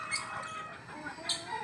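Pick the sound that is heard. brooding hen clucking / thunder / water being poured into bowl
brooding hen clucking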